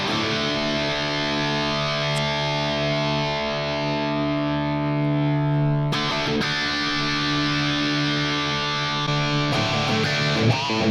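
An electric guitar plays through a Fractal amp modeler preset on channel D with the cabinet simulation on, giving sustained distorted chords that ring out, with a couple of sharp new strums cutting in later, loud and alone.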